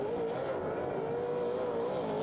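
A Super Saloon race car lapping the track, its engine holding a loud, steady high-rev drone that wavers slightly in pitch, close and continuous.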